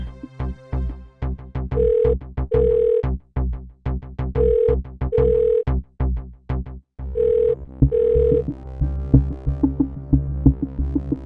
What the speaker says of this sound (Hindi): अब तो अभय भी फोन नहीं उठा रहा।